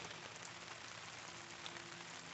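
Steady rain falls outside a parked van at a campsite, a dense, even patter continuing unbroken throughout with no talking.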